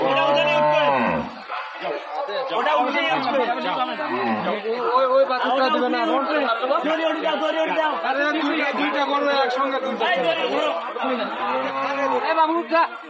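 Dairy cows and calves at a Dupchanchia cattle market moo repeatedly as they are loaded onto a truck. Loud, overlapping bellows mix with constant close chatter from people nearby.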